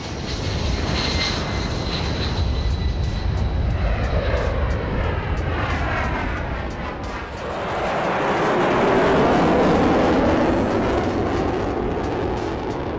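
US Air Force military aircraft engines roar loudly and steadily, a dense continuous jet rumble with a shifting whine as the aircraft passes, no talk.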